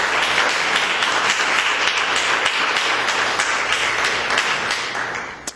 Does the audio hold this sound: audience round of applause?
yes